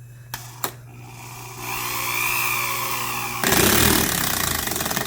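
A Makita 6805BV drywall and sheet-metal screw gun drives a screw: two sharp clicks, then a rising motor whir that steps up into a louder, harsher rattling buzz near the end, close and alone.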